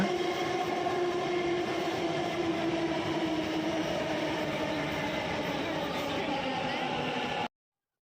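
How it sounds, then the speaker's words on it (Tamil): A Bengaluru metro Green Line train pulls into a station platform with a loud, steady rolling rumble and tonal whine that carries on for several seconds before stopping abruptly. "அங்கதான் நம்ம ட்ரெயின் வரும்"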